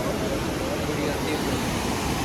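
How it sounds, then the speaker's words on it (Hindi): Mandakini river rushing beside Tapkund hot spring at Gaurikund on the Kedarnath trail, a steady broadband roar of fast water filling the whole moment without pause. "और ये साथ नदी बह रही है इसके,"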